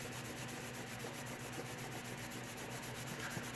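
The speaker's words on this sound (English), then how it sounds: "We'll give it a good buff there just to see if that helps any." Steady, faint rubbing as a leather surface is buffed to lift a silver pen mark, a continuous fast back-and-forth scrubbing texture over low background hum.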